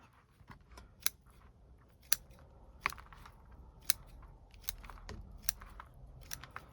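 Shears pruning a yucca tree, a series of sharp, crisp snips spaced about a second apart over a soft background, close but fairly quiet, with no talk.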